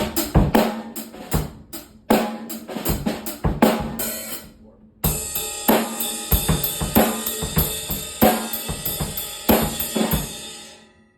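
A close-up drum kit beat with a tight snare, played as a steady groove of kick, snare and cymbal hits, with a short pause midway before the pattern resumes with busier cymbals.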